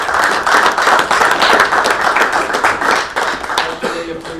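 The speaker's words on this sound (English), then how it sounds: "Let's have a round of applause." A round of applause at a school board meeting: steady, fairly close clapping from a modest group of people, continuing for several seconds with some talk faintly mixed in.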